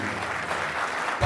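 Audience at a poetry recital applauding, a dense burst of clapping from a crowd filling the short moment, fairly loud and even, with no speech over it.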